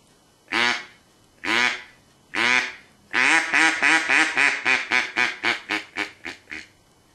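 A duck call blown by hand gives three long, drawn-out quacks, then a fast descending run of about a dozen shorter, loud, close quacks that taper off.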